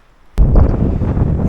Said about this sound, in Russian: Ветрюган прям сумасшедший.